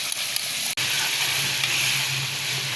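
Garlic sizzling in hot oil in a hot pan, a steady loud bright frying hiss throughout with one brief break, close up.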